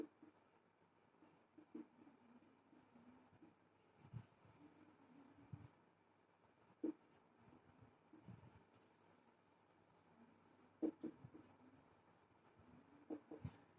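Pen strokes scratch on paper in short, intermittent bursts, close and quiet, as an English grammar example sentence is written out; no one speaks while the writing goes on.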